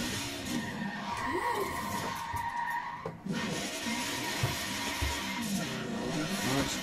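A car skids through a handbrake turn, tyres scrubbing and squealing over a continuous engine drone, with a brief dip midway before the rough skid noise resumes.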